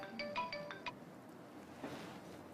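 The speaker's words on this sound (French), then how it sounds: "Madame Samira, encore votre téléphone? Allez-y, répondez." Telephone ringing indoors as a brief run of beeping electronic ringtone tones at the start, fairly faint, followed by quiet room noise.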